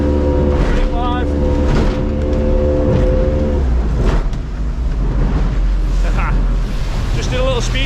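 A Warrior boat's engine drones loud and close during a speed run on the water, a steady roar with wind and water rush and brief voices over it.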